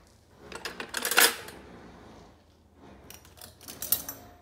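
Metal spoons and forks set into a cutlery organizer, two bursts of bright clinking and rattling close by, the first longer and busier, a quieter pause between them.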